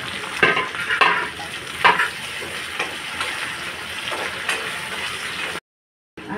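Finely chopped tomato and pieces of green chilli hiss in a hot pan, the steady frying noise rising in short bursts as the mix is stirred, then cutting off briefly near the end.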